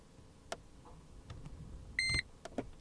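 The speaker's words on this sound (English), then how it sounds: "just press this for 3 seconds, it'll beep until you've done it" Mercedes C220 CDI W203 dashboard gives a single short electronic beep while the service interval is being reset, amid faint clicks and button presses.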